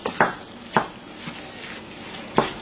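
Gumbo being stirred in a pot after a splash of white wine, with a few distinct scraping strokes against the pot over a soft background sizzle, close and moderately loud with gaps between strokes.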